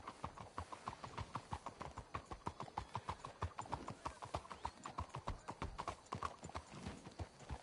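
Steady clip-clop of hooves as horses walk at an even pace in Red Dead Redemption 2, close and moderately loud, with no talking.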